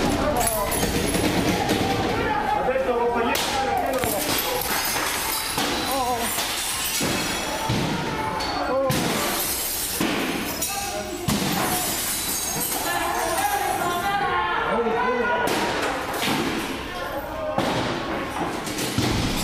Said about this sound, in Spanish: Es estremecedor el ruido, cómo suena cuando se están quebrando los vidrios que estamos viendo ahí.